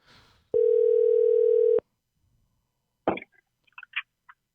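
A steady telephone dial tone sounds alone for about a second while a call is placed, then stops, followed by a few faint clicks and plops on the line.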